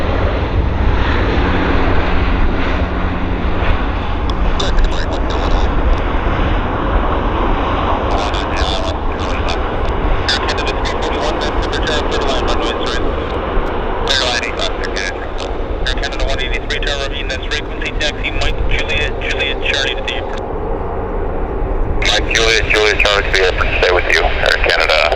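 Airliner landing at Vancouver airport, its loud steady engine roar and rushing noise filling the whole stretch close by, with crackly radio chatter bursts cutting in and out over it.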